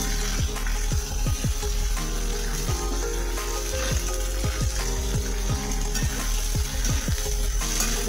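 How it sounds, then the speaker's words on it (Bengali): Cauliflower fries in hot oil for a dal lunch thali, a steady close sizzle and bubbling broken by sharp popping crackles throughout. "তেলটা গরম হয়ে গেছে। এবার আমি ফুলকপিগুলো ছেড়ে দিচ্ছি।"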